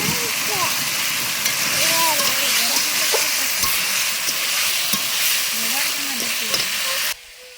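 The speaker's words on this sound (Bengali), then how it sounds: "এখন মশলাটা কষে নেবো, ভেজে রাখা আলুগুলো দিয়ে দেবো।" Spice masala frying and being stirred in a pan, a steady close sizzle with scraping spoon strokes running throughout before cutting off abruptly near the end.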